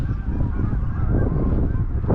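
A large flock of geese honks continuously on a goose hunt, with many overlapping calls forming a dense, loud chorus over steady background noise.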